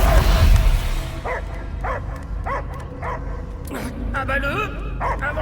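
A dog barks and yips in the Guardians of the Galaxy video game: a run of short, fairly close barks at a steady, even pace, under and after a loud burst of noise at the start.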